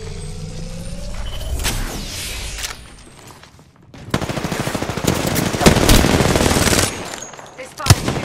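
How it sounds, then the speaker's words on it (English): Rapid automatic weapon fire in the Pathfinder video game, loud sustained bursts and rattling volleys with a short lull partway, then heavier continuous shooting and a sharp final shot. "I'm taking shots."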